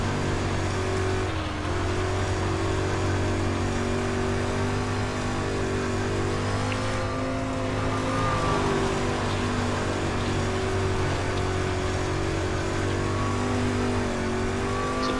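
A street stock race car engine drones steadily on the Eldora dirt track in iRacing, a loud continuous motor note that rises and falls slightly through the corners, with no talking.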